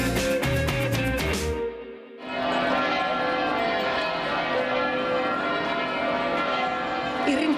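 Church bells ringing in the Veneto, Italy, welcoming participants of a march, with a sustained resonant clang, a brief dip and then a steady wash of pealing bells, loud and reverberant.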